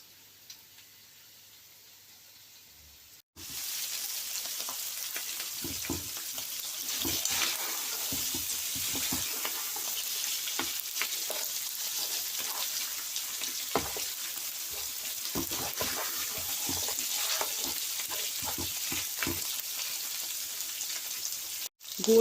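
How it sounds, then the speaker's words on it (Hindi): Mutton browned in a pot for pulao: after a quiet start, a steady close sizzle and frying crackle with occasional stirring knocks runs continuously until a clunk at the end. "गोश्त हमारा भून गया है, हमने भुनाई कर दी है"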